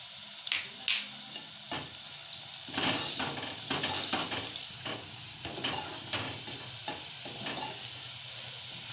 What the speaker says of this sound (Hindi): प्याज को हम अच्छे से फ्राई कर लेंगे। जब तक हमारे प्याज का कलर चेंज नहीं होता, तो इसमें अब हम जीरा डाल देंगे।